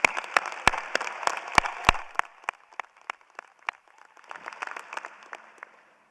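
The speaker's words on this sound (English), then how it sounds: "Please join me in a round of applause for these amazing students." Applause at a spring college of social work commencement ceremony, starting with a few loud, close, sharp claps and thinning into scattered, fainter clapping from a crowd.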